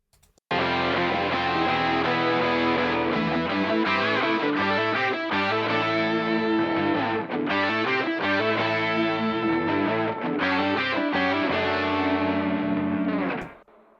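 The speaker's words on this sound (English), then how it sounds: "Here's the mono mix without the bass distortion." Mono music mix without bass distortion, a dense full-band track playing loud and steady for about thirteen seconds before cutting off abruptly.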